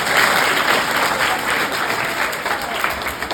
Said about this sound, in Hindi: तो इनके लिए भी आप स्वागत में जोरदार तालियां बजाएंगे।